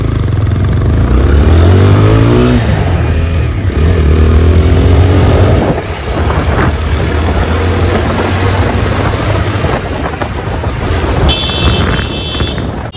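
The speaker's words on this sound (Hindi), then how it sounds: "अभी भगाते हैं अपाची को" A TVS Apache RTR 160 4V motorcycle accelerates hard, its mid-pitched engine note rising and revving loudly and steadily up close over wind rush, with a brief high tone near the end.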